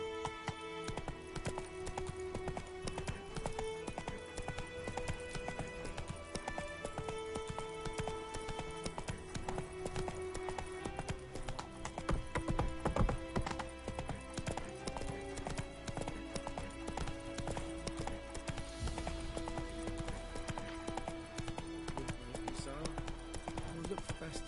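Hooves of a galloping horse in The Witcher 3 on PS5 drum along without a break under a sustained musical score, with a brief louder swell midway and some talk faintly present.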